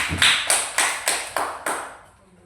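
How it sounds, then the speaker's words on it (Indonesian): Six slow, separate hand claps in an even rhythm, close and crisp, each fading before the next, for a student in a classroom lesson, with quiet following the last clap. "Tepuk tangan buat Ica dulu"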